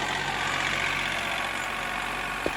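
A John Deere tractor engine runs steadily with the throttle opened up a little, a continuous close mechanical drone with a knocking edge and no talk over it, plus a brief click near the end.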